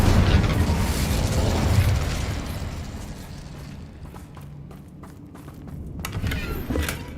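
Incendio fire spell cast in the wizarding game Hogwarts Legacy, a loud fiery whoosh and burst that tails off into quieter crackling and scattered clattering impacts.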